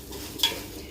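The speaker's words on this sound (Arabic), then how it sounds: "بلفه مع ايه، مع شويه الزيت ومرقه الدجاج دول شويه." Basmati rice stirred in a pot with a little oil and chicken stock, a soft continuous scraping and shuffling with one brief louder scrape midway, close and fairly quiet, no voices.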